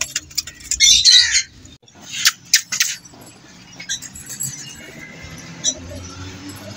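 Shirazi pigeons give short, harsh squawks in uneven bursts close by, with quieter rustling and soft chirps in the gaps.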